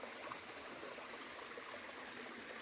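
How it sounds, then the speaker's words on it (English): Creek water flows steadily in a broad, even rush with soft trickling, a stream along a hiking trail running full, heard close and alone with no talk. "creek, which was awesome that it was filled up with water"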